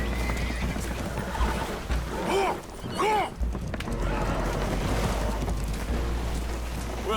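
Spooked horses in Red Dead Redemption 2 neigh and whinny on a damaged boat taking on water, with loud repeated whinnies over a steady low rumble of water and hooves, while a voice speaks in the background.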